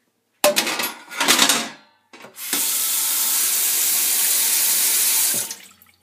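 Water gushes from a tap into a sink in a steady, loud stream after a few brief clatters and splashes, then cuts off.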